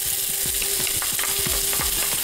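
Onion frying in hot oil with bay leaf, cinnamon stick, cardamom pods and cumin seeds, a loud close sizzle broken by repeated rhythmic scraping strokes of a spoon through the pan, with no voices.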